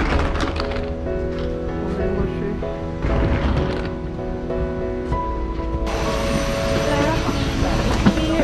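Jet engines keep up a steady roar inside the cabin of a nearly empty airliner carrying about ten passengers, loud and constant, while people talk over it.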